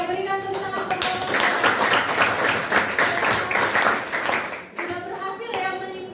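Students applaud in a classroom, a dense burst of clapping lasting several seconds, with a voice speaking briefly before and after it.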